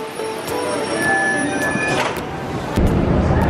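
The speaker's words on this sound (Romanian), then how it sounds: "Acum trebuie să luăm metroul" A Paris metro train in an underground station, with rumbling wheels, high squealing tones and a surge of louder rolling noise near the end, close and steady.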